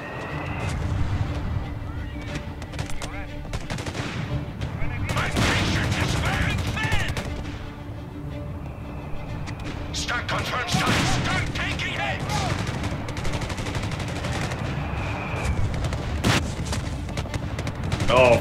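Wartime battle from the strategy game Company of Heroes 3 on a Winter Line map, with rattling machine guns, scattered gunshots and booming mortar blasts layered over a constant rumble, dense and ongoing.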